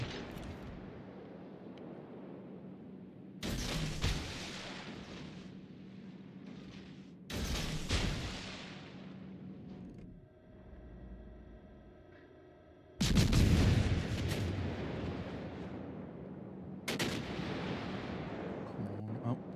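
Heavy naval guns boom in World of Warships: Legends, several loud deep blasts spaced a few seconds apart with decaying rumbles and a faint tonal hum between them.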